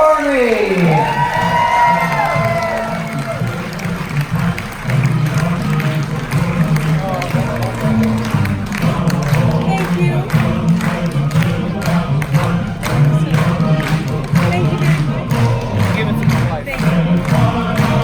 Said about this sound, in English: Big round of applause for our Army, everybody.